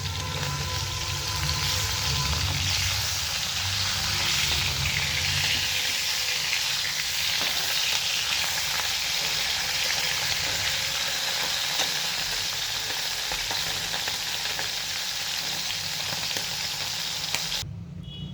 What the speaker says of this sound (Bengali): এই দেখুন, ট্যাংরা মাছগুলো আমার ভাজা হয়ে যাচ্ছে।